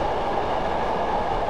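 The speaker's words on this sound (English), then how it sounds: "So I am now going to idle the power and allow the train to coast." A Class 111 diesel multiple unit coasts along the rails with power idled in Train Simulator 2015, on a route from Dumfries to Kirkcudbright. It gives a steady, dense rolling rumble with no voices.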